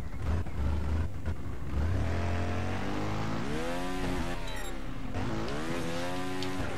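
A motorbike engine in the Trials Fusion game revs up and down through rising and falling pitch sweeps, loud and continuous, with no talking.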